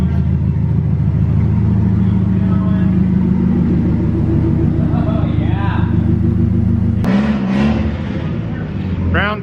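A Nissan 240SX engine drones loudly and steadily at high revs on a dyno for several seconds, then drops in pitch and settles, with voices briefly heard over it.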